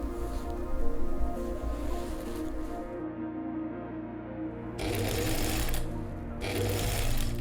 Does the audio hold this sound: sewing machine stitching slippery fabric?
yes